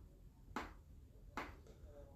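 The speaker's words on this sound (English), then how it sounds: "You can clap your teeth also" Two sharp clicks of teeth clapping together, about 0.8 seconds apart, close and faint over a quiet background during a medical Qigong saliva practice.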